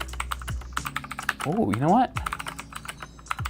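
Typing on a budget mechanical keyboard with short, quick key travel: a steady run of close, crisp clicky keystrokes, briefly interrupted by someone speaking.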